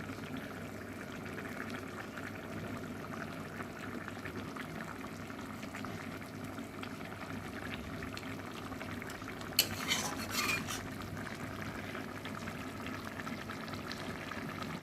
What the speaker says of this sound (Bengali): দেখো বন্ধুরা, ঝোলটা ফুটে গেছে।